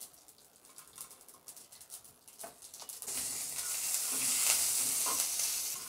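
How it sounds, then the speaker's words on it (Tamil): Mustard seeds hit hot oil in a kadai, with scattered faint pops at first, then a louder, steady sizzle and spluttering that holds to the end, nearby and without voices. "அதே கடாயில் ஆயில் ஊற்றி கடுகு போட்டுக்கலாம்."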